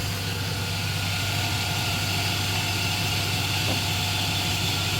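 A car engine idles steadily during a battery and charging system test, a constant low rumble with a faint mechanical hum, close and continuous with no speech.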